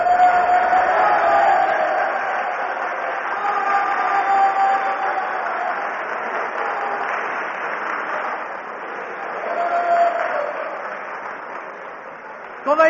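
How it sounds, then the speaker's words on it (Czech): Applause rises and falls as a steady wash of clapping from an audience in an archival recording greeting Ferenc Futurista's entrance, sustained and moderately loud with a thin, aged tone. "Myslím, že ten aplaus svědčí o mnohém."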